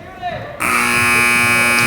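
A basketball game buzzer at halftime of a boys junior varsity high school game, one long loud steady blare that starts abruptly and keeps sounding, with an announcer talking just before it.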